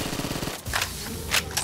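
A gun in a video game fires a rapid, rhythmic burst of automatic shots, then a few sharper separate blasts follow, all fairly close and loud with no talking.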